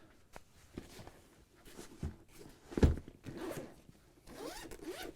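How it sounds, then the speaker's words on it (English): A zipper on a soft tool case for a Milwaukee M12 Fuel 1/4" impact driver is pulled open in several quick, close rasping runs, with small handling rustles between strokes. "Zipper on 3 sides."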